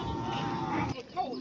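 Cattle low at a busy cattle and buffalo market in Sawang Daen Din, Thailand: one long, loud, close moo, then a softer, shorter call against a murmur of market noise.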